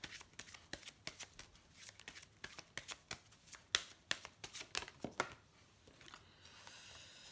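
Tarot cards being shuffled by hand produce a quiet, close series of crisp riffling flicks and taps in irregular bursts that thin out toward the end.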